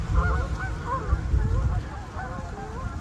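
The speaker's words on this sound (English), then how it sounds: "the goose are there" Geese honk in short repeated calls at a waterside spot with running water, fairly close, with a low rumble underneath and faint human voices in the background.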